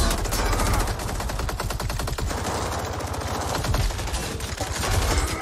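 Rapid automatic gunfire in Mortal Kombat 11's story mode, a long rattling stream of shots, loud and continuous for several seconds.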